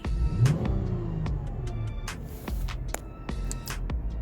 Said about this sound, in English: This is normal rev acceleration.